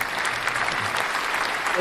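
Applause from an audience at a talk fills the whole short stretch, a dense steady patter of clapping at even loudness with no break.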